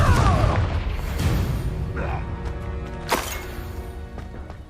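A Confringo fire spell in Hogwarts Legacy bursts with a loud booming blast that trails into rumbling debris, and a second sharp crack follows. Game noise fills the background.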